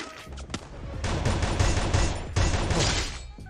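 Rapid automatic gunfire from a legendary weapon in Free Fire, a dense, continuous burst of shots that starts after a couple of isolated pops and carries on loud and close until it cuts off near the end.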